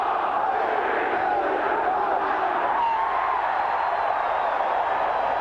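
A packed stadium crowd at the 1992 New Zealand versus Great Britain rugby league match chants and roars steadily through the closing seconds, with rising and falling shouts layered in a loud, unbroken din.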